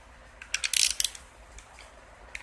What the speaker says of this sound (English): I'm just snugging my bolts down here where they're tight